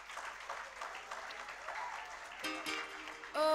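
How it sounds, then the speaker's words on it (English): Students in a school setting break into a round of applause, with scattered clapping building briefly and a sharper burst near the end, with no clear voices over it. "wake me up from this dream with a loud round of applause and cheers"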